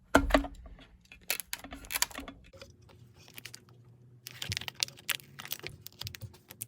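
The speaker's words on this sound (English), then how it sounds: "what we're going to do next is just going to cut the excess material off" Excess tint film being trimmed off a car taillight, a series of quiet clicking cuts and small taps, close and faint with pauses between, no voices.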